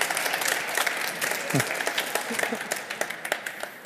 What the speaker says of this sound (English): we should all give a big round of applause to the amazing Steffi Czerny